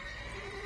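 A mare neighing, a short bright whinny heard close and clear over a continuous background, with no talk.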